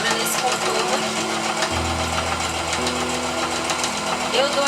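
Sewing machine stitching around the outline of a fabric doll carrier, a steady motor whir with a low hum that steps in pitch partway through, running continuously at close range.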